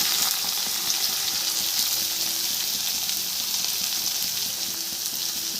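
Cumin seeds and finely chopped onion frying in hot oil for a paneer dish, a loud, continuous close sizzle with faint stirring clicks throughout and no talking.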